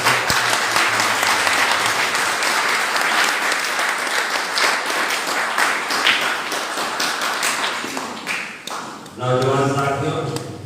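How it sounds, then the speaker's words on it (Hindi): Loud, sustained applause from a large hall audience, dense and continuous for about nine seconds before fading as a musical tone or voice starts at the end. "एक बार जोरदार तालियां बजा दें।"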